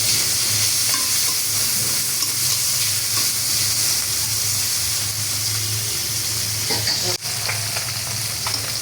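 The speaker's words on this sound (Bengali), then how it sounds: "এখন আমি ট্যাংরা মাছটি ভাজা নিব।" Tangra fish seasoned with salt and turmeric frying in hot oil in a wok, a steady loud sizzle with stirring scrapes running throughout, no talking.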